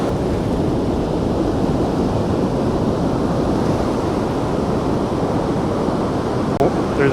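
Ocean surf breaking on a beach during surf fishing, a loud continuous roar and wash of waves with no pause, heard alone throughout.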